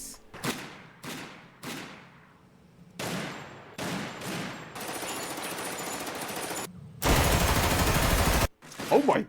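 Gunfire from weapons in the video game Primal Carnage Evolution: several loud single shots with echoing tails, then sustained rapid automatic bursts, close and powerful.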